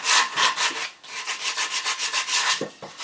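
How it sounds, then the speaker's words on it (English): A part of a wooden patio chair is sanded in quick, rhythmic back-and-forth strokes, loud and close, ending with a couple of light knocks. "Sand this out just a little bit."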